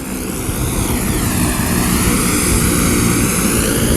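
A California Highway Patrol rescue helicopter setting down on a slope landing zone, its rotor and turbine roaring loud and steady, close by and continuous with no talk.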